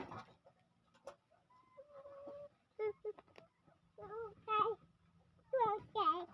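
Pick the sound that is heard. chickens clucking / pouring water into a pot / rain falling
chickens clucking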